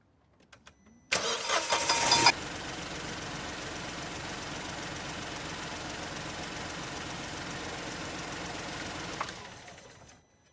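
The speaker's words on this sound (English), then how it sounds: "when I turn the engine on" A car engine cranks over and catches, opening with a loud, brief starter burst and then settling into a steady, even idle. The idle runs for several seconds before the engine shuts off, close up and with no talking.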